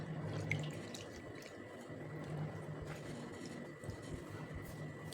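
Water runs and swishes faintly as lentils (dal) for puran poli are rinsed clean in a bowl, a continuous, soft splashing with no talk.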